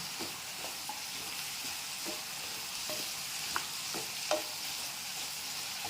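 Mixed vegetables sautéing in a pan over medium heat, a soft continuous sizzle with occasional light spatula taps, fairly quiet and without speech.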